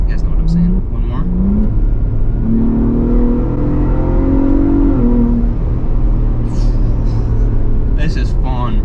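Ford Bronco Raptor engine revving hard as it accelerates and downshifts, a steady loud roar with rising pitch sweeps through the middle, with a person talking over it at the start and end.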